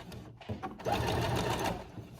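A sewing machine runs a straight stitch at 2.5 length in a short burst, its rapid mechanical whir close and loud after a brief start-up.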